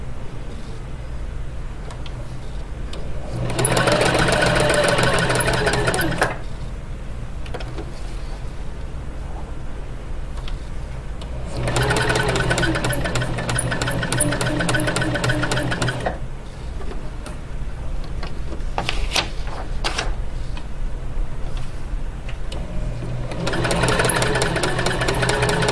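A sewing machine stitches through paper in three loud, rapid mechanical bursts of needle clatter, each a few seconds long, separated by quieter pauses of motor hum and small handling sounds.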